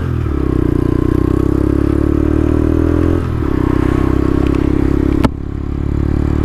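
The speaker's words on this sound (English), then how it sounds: "I was starting the bike with a lot of choke" A motorcycle running on heavy choke, a loud, steady close-up engine drone with a rich low rumble that briefly dips before holding steady, ending with a sharp click.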